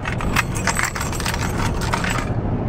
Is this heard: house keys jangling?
yes